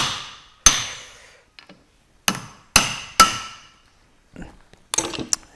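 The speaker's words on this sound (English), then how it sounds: "this propeller's got a couple of locking tabs on here that I was just banging out of the way off of the lock nut" Sharp hammer blows knock the locking tabs off a propeller lock nut on a 40HP Mercury outboard motor: about seven ringing metallic strikes in irregular bursts, separated by short silences.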